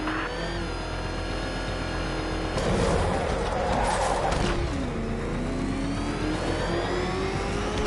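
The Batmobile's engine in Batman: Arkham Knight revs and drones steadily, its pitch sweeping up and shifting as it drives, loud and continuous with a burst of rough skidding noise in the middle.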